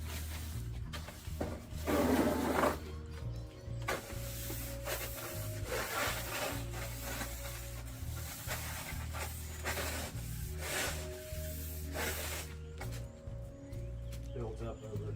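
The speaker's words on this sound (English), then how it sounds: "Some scrubbing here." Soffit ridges scrubbed clean of dirt, producing soft rhythmic brushing and rubbing strokes, close and fairly quiet, with a person talking over them.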